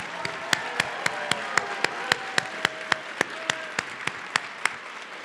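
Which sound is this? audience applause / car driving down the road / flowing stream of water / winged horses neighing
audience applause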